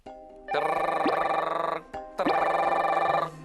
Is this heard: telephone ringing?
yes